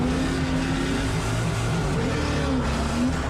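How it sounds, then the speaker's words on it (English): A V8-swapped Nissan S14 race car roars loud and close at a drift event, engine droning steadily with a quick gear shift as the pitch dips and climbs again, no talking over it. "That second gear shift happened so fast I almost didn't see it"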